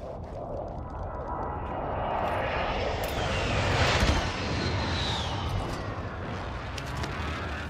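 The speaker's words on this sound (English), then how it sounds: "Airstrike on him." An airstrike aircraft in Warzone roars overhead, a loud sustained jet engine drone that swells to a peak mid-pass and stays heavy, with distant gunfire mixed in.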